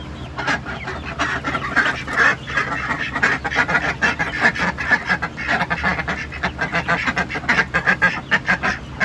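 Ducks in a backyard flock with chickens quack continuously, with many overlapping calls close by and no talking.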